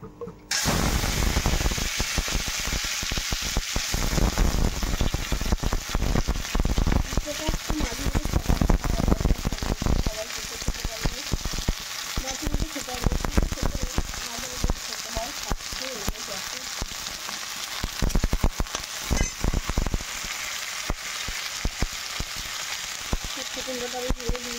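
Dry red chillies and bitter gourd with pumpkin frying in hot oil give a steady, loud sizzle and crackle that runs the whole time, with a voice talking over it.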